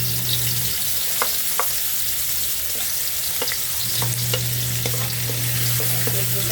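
Garlic and turmeric sautéing in hot cooking oil, a steady close sizzle with scattered sharp crackles and a few clicks of a utensil, no voices.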